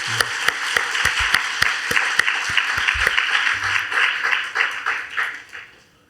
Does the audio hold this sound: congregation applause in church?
yes